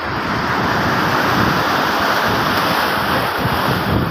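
Loud, continuous rush of sea surf and wind, with waves churning and splashing against a wall nearby and the roar never letting up.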